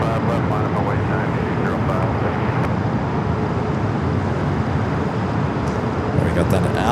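GE90 jet engines spool up at LAX airport in a broad, steady roar, heard from a distance and blended with surrounding airport and road traffic noise, with speech faintly mixed in.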